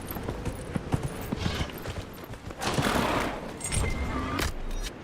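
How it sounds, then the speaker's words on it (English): Hooves clatter and splash as a horse steps into water in the video game Dragon Age Inquisition, irregular clip-clop thuds giving way to a sustained watery wash that lingers to the end, with no voices. "Wanted to see what would happen if I took the horse in the water."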